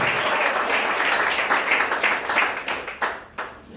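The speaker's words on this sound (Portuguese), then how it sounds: "Aplauda o Senhor e pode tomar o teu assento." A church congregation claps during a worship service, dense close applause that rolls steadily and then thins into a few last claps before fading out.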